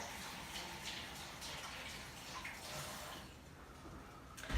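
Produce rinsed under a running tap, a steady soft hiss of water that flows evenly throughout, fairly quiet and close.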